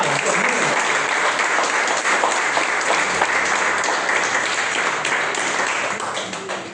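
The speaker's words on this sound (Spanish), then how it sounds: "Un fuerte aplauso" A church congregation bursts into loud, dense applause, a full wash of clapping that holds steady for several seconds before starting to taper at the end.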